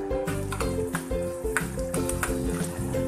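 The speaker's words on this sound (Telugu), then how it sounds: "ఇప్పుడు స్టవ్ మీద ఒక ప్యాన్ పెట్టి కొద్దిగా ఆయిల్ వేసుకొని కొన్ని వెల్లుల్లి రెబ్బలు వేసి బాగా వేయించుకోవాలి." Garlic cloves fry in a little oil in a pan on a stove, a steady close sizzle running throughout with faint stirring and utensil contact on the pan.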